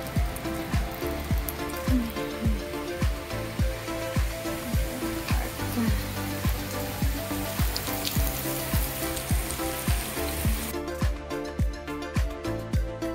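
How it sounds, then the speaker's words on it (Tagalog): Heavy rain falls in Surigao City in the Philippines, a dense, steady hiss that continues without a break throughout, overlaid by faint rhythmic pulses. "malakas ang ulan. umuulan."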